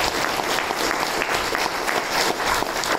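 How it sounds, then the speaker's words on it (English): Steady audience applause fills the whole stretch, dense and even clapping from a room full of people at a talk, loud and continuous without voices on top. "All right, so round of applause."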